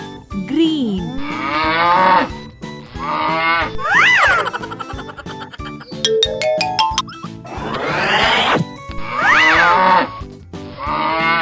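A cartoon cow moos repeatedly in long, swooping, exaggerated calls, loud and close, mixed with jingly sound effects between the moos.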